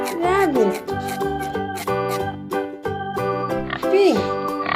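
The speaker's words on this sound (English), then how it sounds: "pig, pig." A pig oinks and grunts in a run of nasal, pitch-bending calls, loud and close, while a voice speaks alongside the animal sounds.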